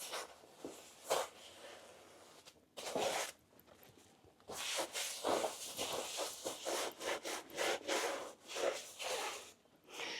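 Ice cubes rubbed and scrubbed across the enamel surface of an AGA cooker to lift off dirt, giving a close, gritty scraping sound in repeated strokes with short pauses between bursts.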